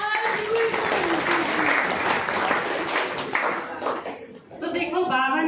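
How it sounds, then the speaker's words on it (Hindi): Crowd applause at a spiritual discourse, a dense wash of clapping that swells and holds for several seconds before thinning briefly, with a voice rising over it near the end. "ताली बजाओ भाई।"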